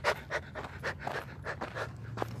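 A tired man pants rhythmically like a dog, about eight quick breathy huffs in a steady pulse, close and fairly loud, with a low hum underneath and no talking.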